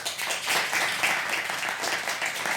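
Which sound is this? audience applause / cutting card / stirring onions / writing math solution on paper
audience applause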